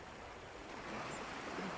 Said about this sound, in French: Le bruit des vagues fait beaucoup de bien.